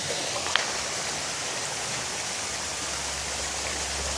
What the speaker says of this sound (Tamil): அப்படியே வாட்டர் ஃபால்ஸ் பாருங்கள்